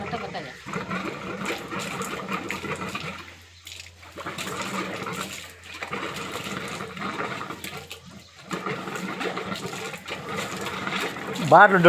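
Sewage-contaminated water gushes steadily from a tap in a residential colony, splashing into a container, with voices talking over it and brief pauses in the flow.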